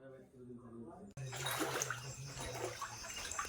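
Floodwater rushing and splashing through a station area in Fakuagram, a steady broadband wash that starts abruptly and continues loudly, with a voice talking over it.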